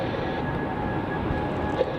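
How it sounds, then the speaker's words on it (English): An Airbus A320 taking off at Melbourne Airport gives a steady, smooth jet roar that holds evenly, with a faint whine riding on top. "He gets our A320 joining the party of takeoffs"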